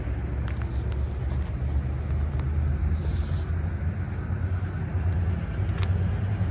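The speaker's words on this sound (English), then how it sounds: "there's a train right behind me here" Train rumbling behind an old blast-furnace hot metal bridge, a constant low, heavy drone that stays steady throughout at moderate distance, with no talk over it.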